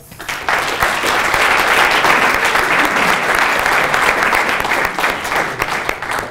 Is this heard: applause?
yes